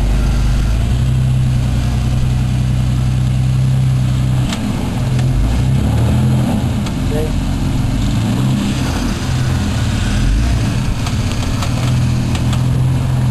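An off-road rock crawler's engine rumbles steadily and loud up close as the vehicle climbs over rocks, a low continuous drone that shifts in pitch around the middle, with no talking.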